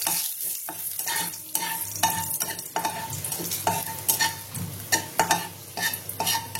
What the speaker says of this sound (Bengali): তেলটা আমার গরম হয়ে গেছে, আমি এবার তেজপাতা আর শুকনো লঙ্কাটা দিয়ে দেবো।